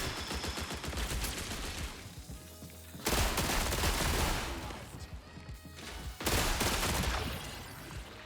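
Rapid gunfire crackles in the Marathon extraction-shooter video game, with dense automatic bursts in three loud waves separated by brief lulls. Team voice chat is faintly present beneath the shooting.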